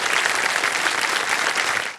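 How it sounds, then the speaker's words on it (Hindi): The studio audience of the game show Kaun Banega Crorepati applauds: a full, even burst of many hands clapping together, sustained for two seconds and tapering at the very end, with no voices over it. "ताली बज जाए आपके लिए।"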